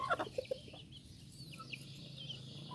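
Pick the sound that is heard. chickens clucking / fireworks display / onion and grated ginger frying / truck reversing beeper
chickens clucking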